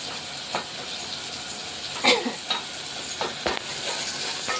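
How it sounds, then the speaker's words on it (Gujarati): Potatoes sizzle steadily in a hot pan of tempering with chutney added while a utensil scrapes and stirs in several separate strokes, one sharper clink in the middle. "બટેટા વઘારાવાની તૈયારી થઈ ગઈ ચટણી નાખી દીધી હવે"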